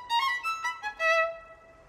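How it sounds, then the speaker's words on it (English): A short, bright melodic string phrase for a violin fairy's magical song from a children's cartoon, a few sustained notes sliding into a held tone, fairly soft with nothing else over it. "the violin fairy plays a magical song that sounds"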